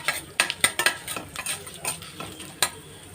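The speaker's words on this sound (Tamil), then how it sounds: "லைட்டாக வறுத்து விட்டுடலாம்." Whole spices (cinnamon, cardamom, cloves, fennel, poppy seeds) being lightly roasted in a pan for egg gravy, with sharp intermittent scraping and stirring clicks over a faint sizzle.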